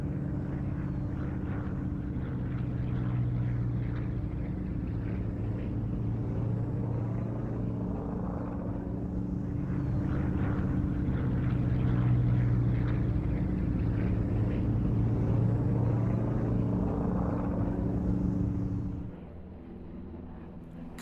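A Messerschmitt trainer, forerunner of the Bf 109, flies at the Duxford Flying Legends 2004 airshow. Its steady, droning propeller engine rumbles at a distance for about twenty seconds, then drops away near the end.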